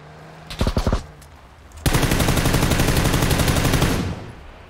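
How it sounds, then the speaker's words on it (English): PUBG video game gunfire: a quick burst of several rapid shots, a short pause, then a long, loud, sustained automatic volley that runs for about two seconds before cutting off. "Who be shooting me?"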